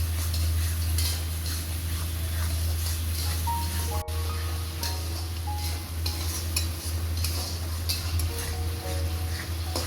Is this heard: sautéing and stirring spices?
yes